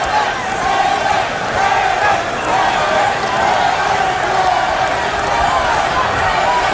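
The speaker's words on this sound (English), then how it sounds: "Lewis's supporters in the crowd chanting for him, Lennox, Lennox, Lennox." Boxing arena crowd at the 1996 Lennox Lewis vs Ray Mercer fight, supporters chanting for Lewis; a dense, loud, continuous roar of many voices with rhythmic rising chant swells throughout.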